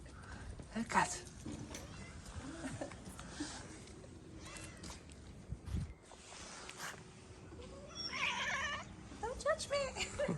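A hungry cat meows repeatedly at close range, several distinct cries interspersed with a person talking to it in a quiet indoor space.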